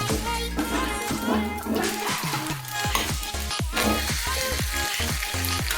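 Jackfruit dosa sizzles and crackles steadily in oil on a hot pan, a loud, close, continuous frying hiss with occasional bubbling pops and no talk.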